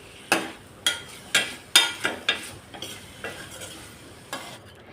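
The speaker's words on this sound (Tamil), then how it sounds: "இப்போ நம்ம இந்த சிக்கனையும் சேர்த்துட்டு கொஞ்சம் வதக்கி எடுத்துக்கலாம்" Chicken sautéing in a cooker for pasta: a series of sharp metallic clanks of a spoon stirring against the pot, about eight strokes, over a low, steady sizzle. Close and fairly loud, with no talking.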